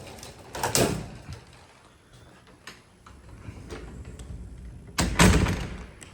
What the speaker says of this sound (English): we must close up the door to secure the elevator